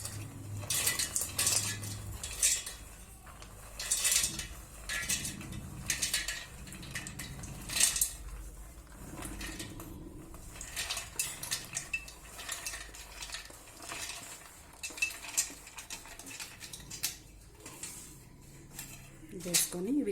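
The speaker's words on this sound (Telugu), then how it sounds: "ఇందులో డ్రై ఫ్రూట్స్ ఏవైతే ఉన్నాయో ఇవి నేను వేస్తున్నాను." Dry fruits tipped into a steel mixer jar in a home kitchen for sugar-free laddu, giving repeated light rattling and clattering bursts up close, with someone talking throughout.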